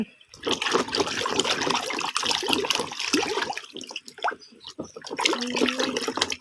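Running water splashing steadily as hed phao mushrooms are washed by hand, a continuous gurgling flow with intermittent sloshes and a brief dip in the middle.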